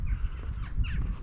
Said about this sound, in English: Again, you can see and hear the rooks.